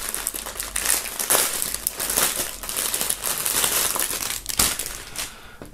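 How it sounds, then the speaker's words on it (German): Plastic shrink-wrap film being peeled and crinkled off a music box set, a close, busy stream of crackling and rustling throughout. "Und dann machen wir noch die Folie ab."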